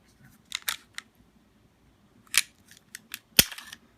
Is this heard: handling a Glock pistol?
yes